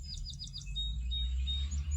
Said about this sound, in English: The song sparrow, which will often perch up and sing